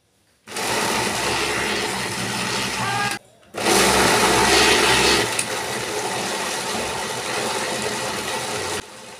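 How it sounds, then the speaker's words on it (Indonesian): A kitchen blender grinds spices for a jengkol dish, a loud steady whirring motor that cuts out briefly near three seconds, restarts and runs on before stopping near the end; the speed sags slightly over the later run. "di sini aku mau blender"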